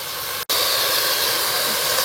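Onions sauté in a pan indoors for chicken dum biryani, making a steady, loud sizzling hiss that drops out for an instant and then carries on, with no talk.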